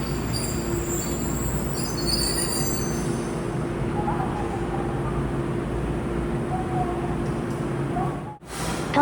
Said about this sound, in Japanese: 古い電車が、近未来的なホームに入線していきます。